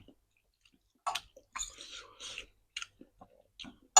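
Close-up chewing of crispy pork with skin in thick Thai rolled-noodle soup, heard as several short, crunchy, wet bites separated by quiet pauses.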